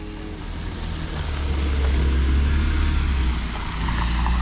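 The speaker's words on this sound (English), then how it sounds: "Now we've got a vehicle in the background." A car passing by outdoors, a loud low rumble swelling steadily to a peak and then easing slightly, with broad road and wind noise and no talking.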